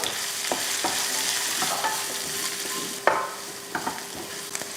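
Ginger, garlic, onion and green chillies sautéing in a pan: a dense, steady sizzle close by, with a few clanks and scrapes of a stirring spoon toward the end.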